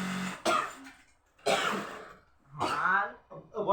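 A boy with a lingering cough lets out a few harsh, close coughs and throat-clearing bursts, separated by short pauses.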